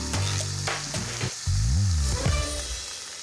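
Beef curry base bubbles and fries in a pan or cooker with a dense, close sizzle and low gurgling bursts, steady throughout and with no voices.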